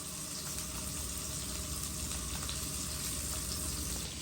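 Panch phoron and garlic sizzle steadily in hot oil for a vegetarian papaya fry, a constant close crackle and hiss at moderate level with no talking.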